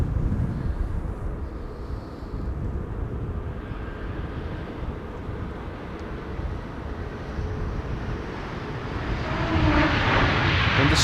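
Aegean Airlines airliner from Athens landing in a crosswind at Amsterdam Schiphol, a steady broad engine roar at moderate distance that swells louder toward the end as it comes down.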